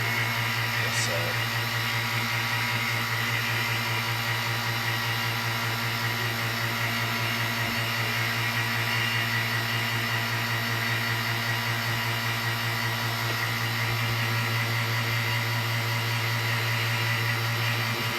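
A 10 kV AC arc discharging into clay mud inside a 20 inHg vacuum chamber, heard as a steady, loud electrical buzz and hum, constant and unbroken throughout.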